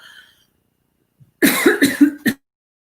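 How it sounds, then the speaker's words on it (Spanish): A short burst of several dry coughs in quick succession, close and fairly loud, following near silence. "voy a toser un momentico."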